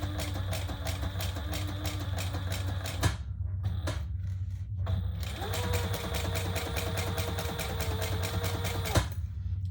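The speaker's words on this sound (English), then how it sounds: "now we're just gonna top stitch across the back top." Sewing machine top stitching across purple leather on a waist pack, rapid rhythmic needle chatter in two bursts separated by a short pause, close and steady over a low background hum.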